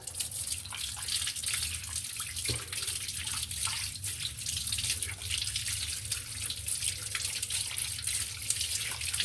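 Tap water runs steadily into a sink while betel leaf stems (Chinese betel, sirih Cina) are rinsed under it, a continuous close splashing stream with no talk.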